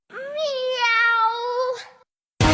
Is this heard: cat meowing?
yes